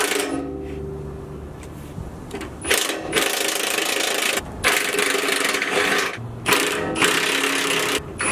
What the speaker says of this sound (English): remove those four bolts and these other four bolts, and it should come out